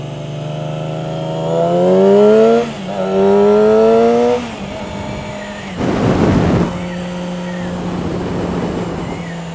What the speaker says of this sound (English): So say I want to downshift right now, I'm going to bloop the throttle